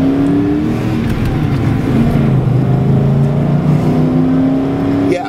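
A 1995 Ford F150 Eddie Bauer 4x4 with a manual gearbox accelerates hard toward 60, its engine droning loud and steady from inside the cab with rising revs and a shift near the end.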